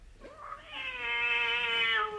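A cat lets out a long, rising, drawn-out howl, close and fairly loud, with a strained, wavering tone.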